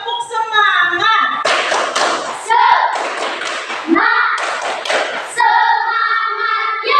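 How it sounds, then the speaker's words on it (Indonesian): Children in a classroom clap a rhythmic spirit cheer, bursts of claps in patterned groups alternating with sung or chanted voices throughout, loud and close. "mari kita sama-sama tepuk semangat"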